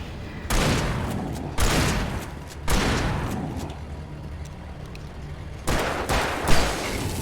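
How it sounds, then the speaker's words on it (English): Shotgun fire in the video game Alan Wake Remastered, several loud, separate blasts a second or two apart, each with a sharp attack and a rumbling tail. "Gotta stop using shotguns at range."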